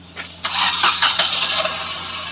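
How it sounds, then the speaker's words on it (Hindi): A Maruti Suzuki Wagon R's self starter motor cranks the engine of a car that starts and then stalls, with a noisy starter: after a brief quiet moment, a loud whirring crank with uneven pulses runs for about two seconds, close by. "सेल्फ भी बहुत आवाज कर रहा है"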